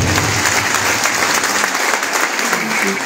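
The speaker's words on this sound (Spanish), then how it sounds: "Escuche esos aplausos," A crowd at a civic event in Tacaná, San Marcos claps loudly and continuously, a full, steady roar of applause with some voices faintly mixed in.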